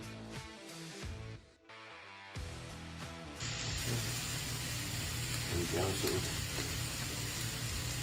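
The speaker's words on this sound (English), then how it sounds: "putting dollops of butter over the crab cake and putting it in the pan. You can hear the sizzle." Loud, continuous sizzling of a crab cake frying in a hot buttered pan, preceded by a few brief clattering sounds.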